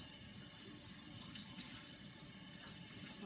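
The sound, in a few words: washing sticky dough off hands at sink tap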